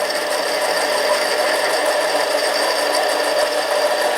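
A Harbor Freight 7x10 mini lathe cutting an aluminum tube gives a loud, steady whirring hum with a fine rattling buzz. The sound stays constant and close throughout.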